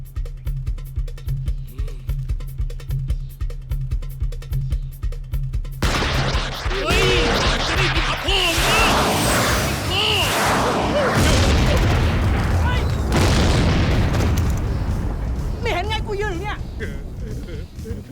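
Gunshots in a Thai film scene, several loud booming blasts and crashes in a chaotic burst after a stretch of low rhythmic background sound, with voices shouting among them.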